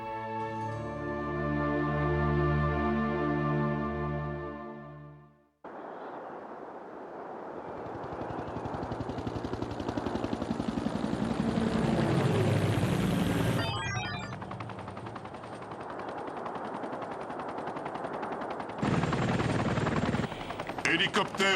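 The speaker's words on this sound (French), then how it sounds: "Hélicoptère à 10 heures." A helicopter from the Transformers Armada cartoon thunders in with loud rotor drone after a sustained musical chord, joined by rapid cartoon gunfire bursts and sound effects, with voices speaking over the action.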